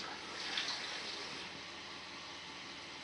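Warm water running from a kitchen tap, a steady soft hiss of flow with no talk over it.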